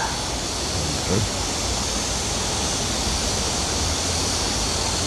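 An artificial waterfall pours into Cheonggyecheon stream in Seoul, a steady, loud, continuous rush of falling water with no pauses.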